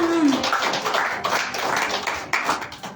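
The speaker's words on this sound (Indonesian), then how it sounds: "Beri tepuk tangan." A church congregation applauds together in a lively, fairly loud burst of clapping that keeps going for about three seconds, with a short vocal sound at the very start.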